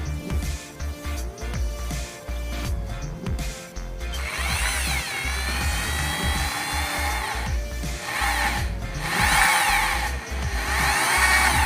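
A power drill bores a hole through a plastic container lid to fit a suction hose. It makes a steady, close motor whine that rises and falls in pitch as the bit bites, with no talking.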